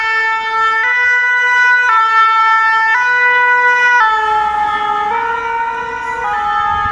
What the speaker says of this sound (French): Encore les ambulances, l'accident a l'air grave.